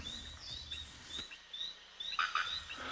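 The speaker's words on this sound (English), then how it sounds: "The calls of male Philomedusa frogs have lured a female to the mating arena." Male Phyllomedusa frogs call at night in Trinidad, a series of short chirping clucks repeating irregularly over a faint insect-filled background, fairly close, with a sharp burst of calls near the end.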